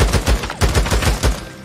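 Rapid volley of loud gunshots in the zombie-survival game Days Gone during a cemetery fight, about a dozen close, punchy cracks in quick succession with no talk.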